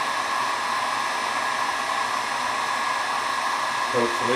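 A hot air blower held a few inches from acrylic tubing warms it for bending in a water-cooled PC build, a loud, constant whooshing hiss with a voice briefly speaking over it near the end.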